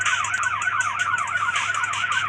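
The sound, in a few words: police car sirens in a video game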